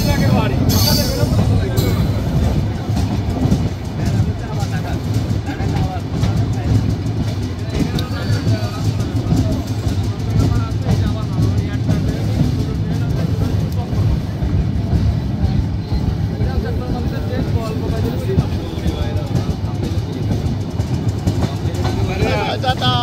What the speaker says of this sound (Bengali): 35 মিনিট বিলম্বে ট্রেনটি ছেড়ে যাচ্ছে বেনাপোলের উদ্দেশ্যে।